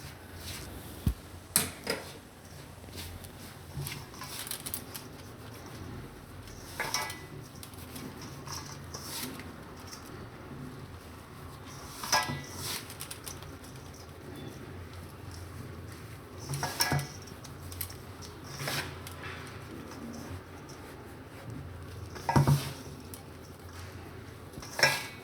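Adadiya ingredients being stirred together in a pan, scraping and clinking from a spoon against metal that comes in scattered bursts over a quiet kitchen background, close by.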